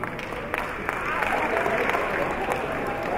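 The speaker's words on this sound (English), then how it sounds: "clap for that person" Crowd at a live show applauding, a dense continuous patter of clapping with some cheering and voices mixed in, steady and fairly loud throughout.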